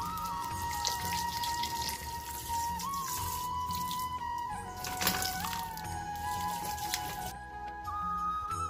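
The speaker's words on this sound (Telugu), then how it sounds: "పాకంలో నీళ్లు పోసుకుందాం." Water is poured into a pan to make sugar syrup for badusha, a steady trickling splash that runs for several seconds over a faint background hum.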